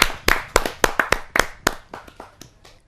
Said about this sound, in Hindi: ऐसे अनूठे कवि को मैं जोरदार तालियों के साथ अभिनंदन करते हुए स्वागत करता हूं मनोज मिश्रा कप्तान जी को।